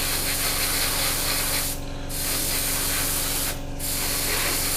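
An airbrush sprays paint over a Hasegawa 1/48 Draken scale model with a loud, steady hiss at very high air pressure, cutting out briefly twice as the air flow stops and restarts.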